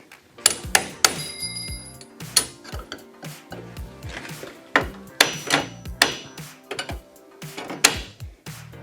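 A hammer taps a roof panel into place on a 1987 EZGO Marathon golf cart, with a string of sharp metallic knocks in uneven bursts, some doubled and some spaced apart, close and fairly loud with a faint ringing.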